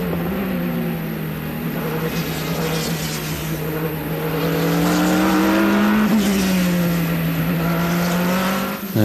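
Onboard engine sound from McNeish's Audi prototype in the 2006 American Le Mans Series, chasing a Porsche for the lead: a loud, steady engine drone that rises in pitch around the middle, then shifts and climbs again, with no talk.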